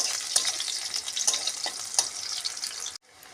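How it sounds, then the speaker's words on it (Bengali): Spices sizzling lightly in a hot pan for a Bengali small-fish curry, with a steady bright frying hiss and a few stirring scrapes, cutting off abruptly near the end. "সেটা একটু হালকা করে ভেজে নিচ্ছি"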